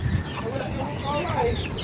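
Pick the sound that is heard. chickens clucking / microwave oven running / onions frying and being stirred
chickens clucking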